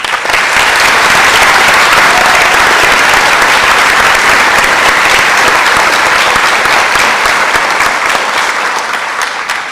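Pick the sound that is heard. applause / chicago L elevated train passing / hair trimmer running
applause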